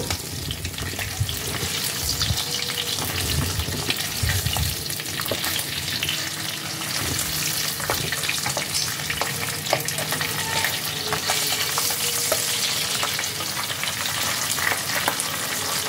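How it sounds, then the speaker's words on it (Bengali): Pabda fish frying in hot mustard oil, turned to cook both sides: a steady, dense sizzle and crackle runs the whole time at close range, with no voices. "দু পিঠ ভালোভাবে ভেজে নেব।"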